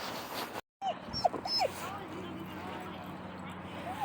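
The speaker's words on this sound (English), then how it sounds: "she start whining, and I don't like any continuous whining" A dog whines in short, high rising whimpers at a dog park, several brief cries spread across the moment over steady outdoor background noise and low murmuring.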